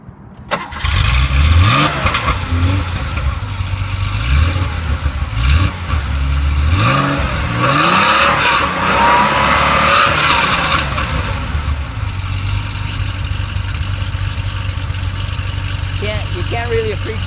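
A 1983 Porsche 911 hot rod engine cranks and starts, then revs repeatedly with rising and falling pitch before settling into a loud, steady idle close to the microphone, with no talk over it.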